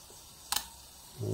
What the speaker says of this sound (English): There we go, very quiet shutter on these.